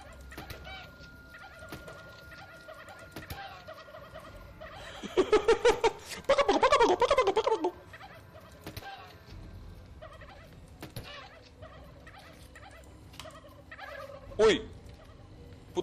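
Infected killer turkeys gobbling in the survival video game How to Survive 2, a loud burst of rapid gobbling calls in the middle with scattered thinner squawks before and after over quiet game ambience.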